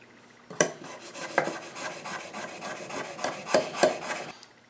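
Plane iron honed on a sharpening stone, several scraping, rasping strokes of metal on stone at an uneven rhythm, close and moderately quiet with no talking.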